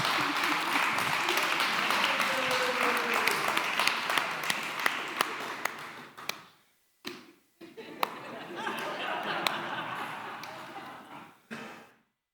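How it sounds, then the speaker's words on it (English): An audience at a comedy magic show applauds a volunteer with dense, lively clapping that breaks off briefly, resumes, and then fades. A performer talks over the clapping at times. "Give him a hand, everybody"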